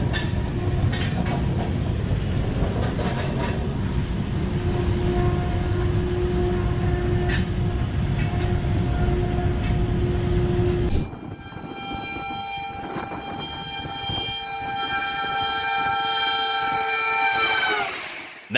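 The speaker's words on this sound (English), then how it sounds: "Watch this train fight gravity every inch of the way up the grade." A train laboring up a grade, a loud sustained rumble of engines and wheels with horn-like tones ringing over it, easing off partway and then building again toward the end.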